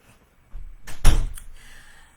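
A door being shut indoors at home, a short scrape and swing followed by a solid close thump, fairly loud and near, then a brief rattle as it settles.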